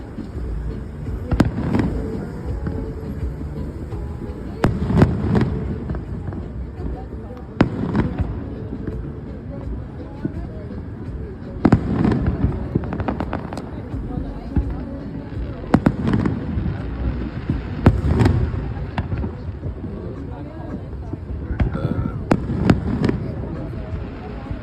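Fourth of July fireworks at a Riverwalk show in 2024, with rocket shells bursting in repeated sharp booms scattered across the clip over a steady crowd rumble, fairly close and loud, with people talking in between.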